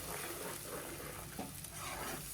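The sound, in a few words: onion and tomato puree being stirred and sautéed in a pan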